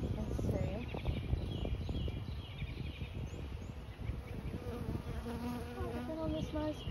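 Honeybee swarm clustered on a mailbox, a dense continuous buzzing hum close by, with a few faint bird calls in the background and a person's voice occasionally under the drone.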